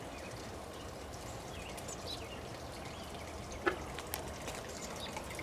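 Water poured over a small tree in a home yard, a steady soft hissing splash that runs throughout at low level, with a couple of small knocks near the middle.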